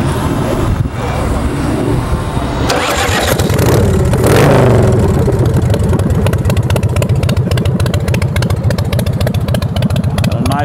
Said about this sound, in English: Fire it off and let you listen to it.